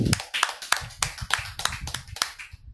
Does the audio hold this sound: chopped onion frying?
no